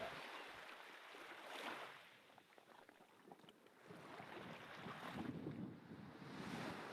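Ocean waves wash gently up onto a sandy shore in slow, soft surges, with steady wind noise hissing over the microphone and no voices.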